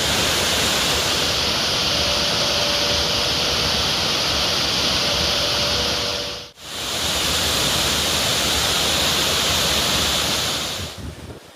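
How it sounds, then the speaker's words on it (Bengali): Heavy rainwater pours over a dam on the swollen Damodar river, a loud, steady, close roar of rushing water with no break except one brief dip, and no voices. "ভারী বৃষ্টিতে বাঁধের উপর বইছে জল।"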